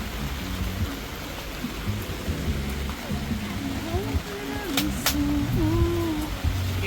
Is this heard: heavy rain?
yes